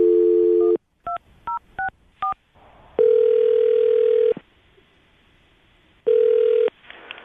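Telephone call being placed: a steady dial tone, then four short beeping DTMF keypresses, followed by two long ringback tones separated by a pause, clear and close with no talking.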